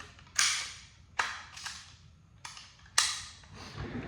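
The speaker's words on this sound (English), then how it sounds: "I'm going to lock this bolt to the rear" An AR-10 rifle on a build bench gives several sharp metallic clacks and snaps, spaced irregularly, as the bolt is worked and locked to the rear; close and crisp with a quiet room between hits.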